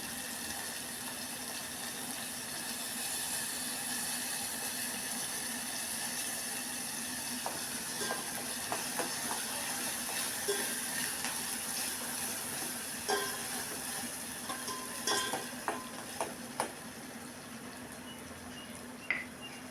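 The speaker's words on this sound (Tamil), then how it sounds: "பாருங்கள் செந்தக்காய் வதங்கிட்டுருக்கு ஆயிலில்" Turkey berries (sundakkai) sautéing in oil give a steady hiss with a faint hum, and occasional small pops and crackles grow more frequent toward the end, with no voices.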